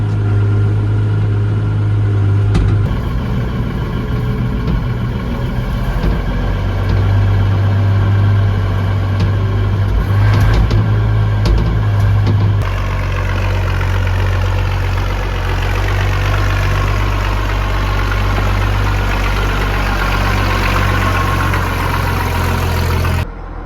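The engine of a 1200 articulated tractor that pivots in the middle idles loudly and steadily at close range. It chugs with a low drone and slight shifts in tone, and the pitch changes briefly partway through.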